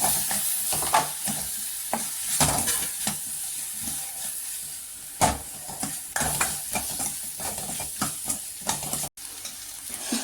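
Sliced eggplant sizzles in a hot pan for chickpea kuzhambu, with a spoon scraping and stirring in irregular strokes; the frying hiss is steady and close, and a few sharper clatters punctuate it.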